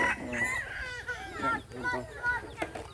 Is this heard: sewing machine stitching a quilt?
no